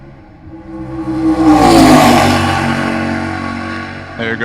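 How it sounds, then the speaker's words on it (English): A race car, the number 101 driven by Jason Miller leading at Road America, roars past, its engine swelling to a loud peak mid-pass and fading away, with a brief whir and rattle near the end. "There goes the race leader, the 101 of Jason Miller, completing his second lap"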